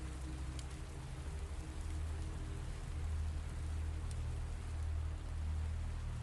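Rain falls steadily over a city street, a soft even hiss of drops on the surface with a low rumble underneath, continuous and fairly faint.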